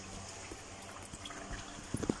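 Fresh differential oil flows out of a 2014 Chevrolet Tahoe during an oil change, a faint, quiet trickle and dribble with a few small drips near the end.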